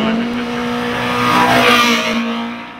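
Caterham race car climbing the Shelsley Walsh hillclimb, its engine droning steadily, swelling louder as it passes near, then easing off toward the end.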